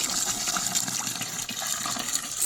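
Water pours steadily from a fountain at a wine museum in Jumilla, Murcia, a continuous close splashing and gushing with no pauses and no talk over it.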